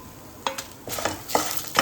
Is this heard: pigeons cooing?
no